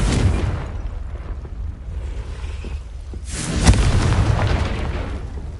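In a Harry Potter video game, the Confringo explosion spell gives a deep rumbling boom with a rushing blast that swells partway through and stays loud to the end, with no talking.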